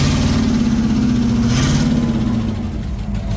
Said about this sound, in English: Rev it up. Rev it up.